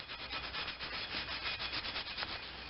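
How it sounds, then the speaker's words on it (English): Steel wool scrubs a metal brake rotor on a Ford F-150 truck, giving a steady, close, fairly quiet rasping rub with a quick back-and-forth rhythm throughout. "so now I'm just finishing up with some steel wool"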